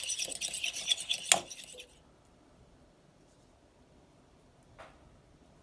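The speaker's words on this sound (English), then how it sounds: "Making up a little egg wash here." Egg wash whisked with a utensil in a small dish while making a pizza calzone on a portable stove: about two seconds of quick, bright metallic clinking up close, then near silence with one faint tap.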